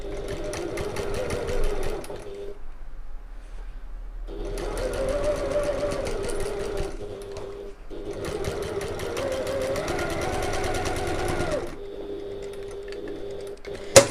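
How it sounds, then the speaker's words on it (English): A sewing machine stitches the bottom seam of a midi bag with a 3/8 inch seam allowance, backstitching at each end, running steadily in three long bursts separated by short pauses, with a faint whine under the motor. "we're going to sew along the bottom using our regular 3/8 of an inch or 1 centimetre seam allowance"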